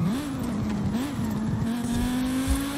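An NSU car engine in Forza Horizon 5 holds a steady buzzing drone, its pitch wavering slightly then rising smoothly as it accelerates, close and continuous with no talk.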